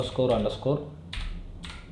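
Keys clack on a computer keyboard as commands are entered while flashing the BIOS of an MSI RTX 3080 Gaming Z Trio graphics card, a few sharp taps between spoken instruction.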